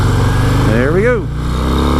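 Harley-Davidson Fat Boy motorcycle engine revving up to the rev limiter, a loud close rising and falling engine whine with a brief stutter at the top, then settling back to a low steady rumble.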